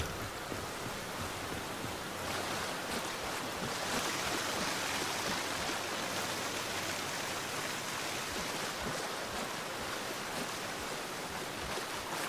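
A waterfall rushing in the Gears 5 campaign, a steady, loud, broadband roar of falling water that holds without a break throughout.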